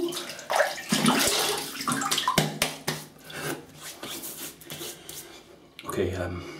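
Cold water runs from a tap as someone wets their face before lathering shaving cream, giving bursts of splashing and rubbing that come and go, with a voice speaking over parts of it.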